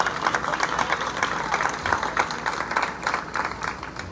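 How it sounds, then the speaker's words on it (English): Guests at a preview night applaud a team member, a lively round of many hands clapping with scattered cheers from the crowd, steady and fairly close for about four seconds. "let's have a round of applause for this one"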